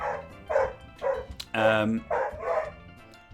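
A dog barks in a string of sharp, loud woofs close by, around six barks over a few seconds, while a person speaks briefly in between.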